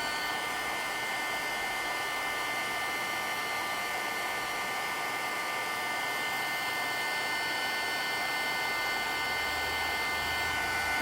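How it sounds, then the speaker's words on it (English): A hair dryer blows on wet paint and spray inks steadily and loudly for the whole stretch, a constant airy whir with a hissing high end and no pauses. "the force of the blow from the dryer moves the paint around"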